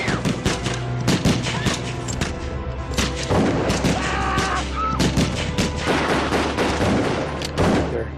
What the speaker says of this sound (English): And that's when I hear the gunshots.